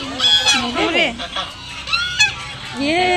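Domestic geese honk loudly and repeatedly close by in Guwahati amid wind and rain, a rapid series of harsh nasal calls with brief pauses between bursts.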